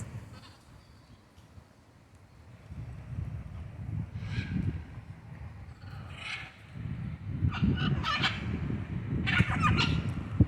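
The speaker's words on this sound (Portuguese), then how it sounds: "tá chegando mais arara. Mesmo no frio elas vêm" Macaws call in cold weather with several harsh, squawking bursts that grow louder and more frequent toward the end, over a low background rumble.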